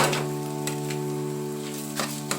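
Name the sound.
food frying in butter in a pan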